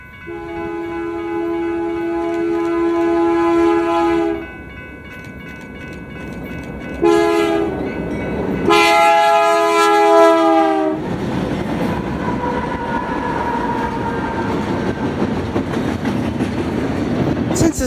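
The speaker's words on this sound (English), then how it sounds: "Our next train would be a westbound Q train, which had quite an interesting consist." A BNSF westbound Q freight train passing on the Needles subdivision, sounding several loud horn blasts in a chord, then a steady rumble and clatter of rail cars rolling by close up.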